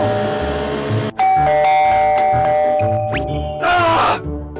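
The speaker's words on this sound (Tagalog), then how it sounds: "May nag-doorbell ba?" A doorbell chimes loudly with ringing tones, followed by another electronic ding-dong, close by against a background of music.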